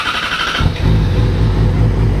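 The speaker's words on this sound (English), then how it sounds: "I guess I do have to turn the bike on if we're gonna check that." A motorcycle engine starts up about halfway through, after a moment of faint background, then settles into a steady, close, loud idle that runs to the end with no talking.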